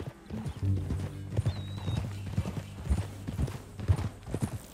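Horse hooves clip-clop in Red Dead Redemption 2, a handful of close, uneven hoof thuds over a few seconds, with a low hum and a faint whistle-like tone in the background.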